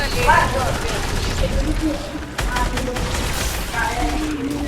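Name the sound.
gunfire in the video game Fortnite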